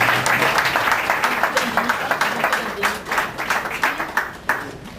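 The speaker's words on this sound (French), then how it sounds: "On peut les applaudir pour ce moment considérable de leur vie" Wedding guests at a civil marriage ceremony clap for the newlyweds, a dense, fairly close burst of applause with sharp individual claps standing out, and voices mixed in underneath.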